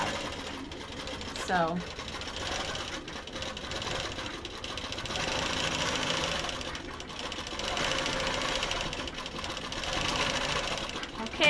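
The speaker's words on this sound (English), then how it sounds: "to let the machine stop and quit sewing right there" A longarm quilting machine stitches a pantograph pattern with a steady mechanical hum and whir that rises and falls. A voice speaks briefly near the start.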